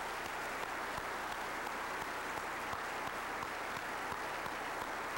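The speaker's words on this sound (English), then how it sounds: "I'd like to give them one more round of applause" An audience at a firefighter award presentation applauds in a steady, even wash of clapping with scattered sharper claps, heard from some distance at a moderate level with no talking over it.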